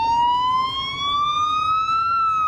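Ambulance siren wailing close and loud, a single rising tone sweeping steadily upward over a few seconds, with faint street noise beneath.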